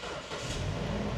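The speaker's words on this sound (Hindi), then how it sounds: "सबसे पहले तो मैं आपको इस गाड़ी का स्टार्टअप दिखाता हूँ" A black 2020 JDM Toyota Land Cruiser Prado starts up, a brief crank followed by a smooth, fairly quiet engine catching and settling, heard alone at close range.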